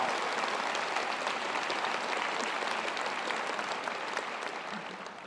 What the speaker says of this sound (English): Another round of applause for Mrs. Alma Powell.